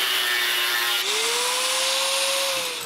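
Power tool cutting the heads off steel lag bolts in a workshop, a steady, loud grinding whine with a high tone that rises slightly midway and holds to the end, no talk.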